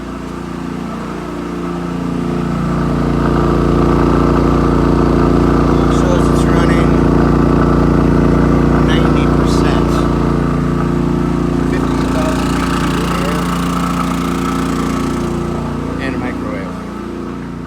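Portable generator bogging and then rising as a microwave and air conditioner load it, a steady loud engine drone close by with faint clicks over it.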